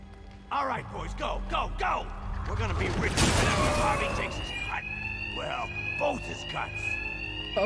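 A bank alarm rings in the video game Batman: Arkham Knight as a loud, continuous electronic tone with a crash of noise midway, while a voice speaks over it.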